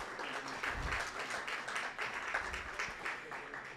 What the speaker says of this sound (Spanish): Quiero también invitar a Gabriela Sobarz, un aplauso para ella, por favor.